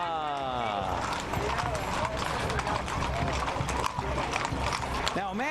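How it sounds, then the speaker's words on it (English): Horses trot through a grand parade on a hot beach day, a busy patter of hoofbeats mixed with crowd noise and people talking nearby. "It's an equestrian workout for those horses."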